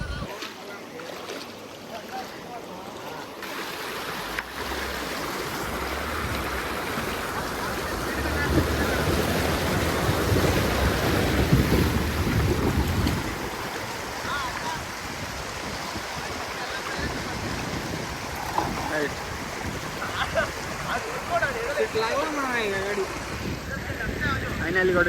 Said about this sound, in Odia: ବର୍ଷା ଜୋରଦାର ହେଉଛି, ପାଣି ପୁରା ଫୁଲ୍ ହେଇକି ଅଛି।